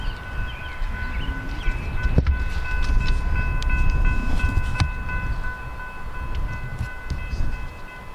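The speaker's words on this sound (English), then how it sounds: "we have an inbound Metra commuter train also pulling into the Naperville train station" An inbound Metra commuter train rumbles into the Naperville station, a steady low roar with sustained horn tones and a couple of sharp metallic clanks, moderately loud and close.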